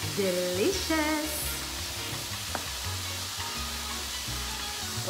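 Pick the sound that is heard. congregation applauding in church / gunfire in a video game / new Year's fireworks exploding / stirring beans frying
stirring beans frying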